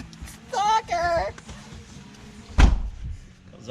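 A car door on a wrecked, rebuilt 2020 Ford Mustang turbocharged EcoBoost swings shut with one solid, close slam and a low thud, after a couple of brief squeaky, chirping vocal sounds.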